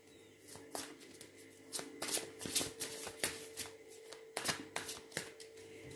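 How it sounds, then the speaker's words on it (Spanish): Tarot cards handled and drawn from a deck, a series of soft papery slaps and brushing shuffles at irregular intervals, close and fairly quiet. "Vamos a sacar tres cartas y vamos a sacar tres cartas también del otro tarot."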